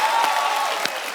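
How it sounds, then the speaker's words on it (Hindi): Studio audience on The Kapil Sharma Show claps in a dense, loud burst of applause that stays steady for about a second. "जोरदार तालियां एक बार मान साहब के लिए"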